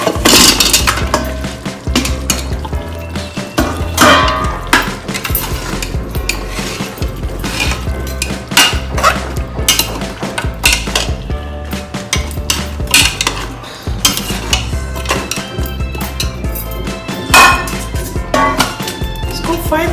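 A utensil stirs mutton leg soup in a pot, with continuous scraping and clinking against the metal sides in a steady, busy rhythm for the whole stretch, close and fairly loud, with some speech heard beneath it.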